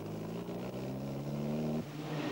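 Rally cars from the 1995 Rally Melbourne in the Yarra Valley roar with a steady, loud engine drone whose harmonic pitch holds, then drops sharply near the end as the driver shifts, before building again.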